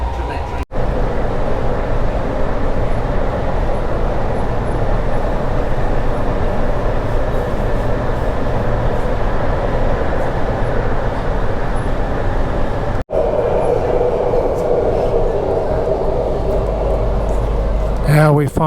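Sydney Metro train running toward Sydenham station: a steady loud rumble and rolling noise throughout, with a brief dropout and a shift in tone as it emerges into daylight, with voices audible over it.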